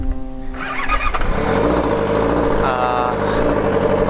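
Yamaha R6 big sport motorbike with a megaphone exhaust revving hard and pulling away on an off-road trail, a loud, steady engine roar that fills the clip after a brief lower-pitched start.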